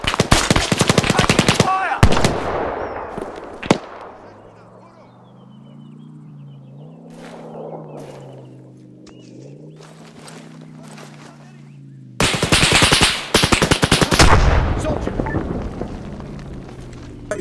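Rapid automatic gunfire in the video game Arma 3, loud close bursts at the start and again after a long lull, with a low engine drone and distant thuds filling the quiet middle stretch.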